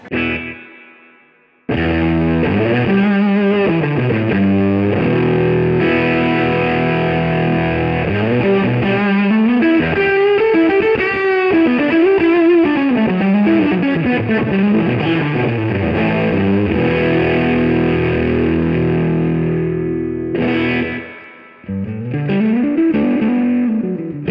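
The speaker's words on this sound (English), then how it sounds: "Then it goes to the Myriad Fuzz, so this is loud. Put on a slapback too from my TC Flashback." Loud electric guitar drenched in distortion from a Myriad Fuzz pedal with a short slapback echo from a TC Flashback, notes bending and sustaining continuously, with a brief gap near the end.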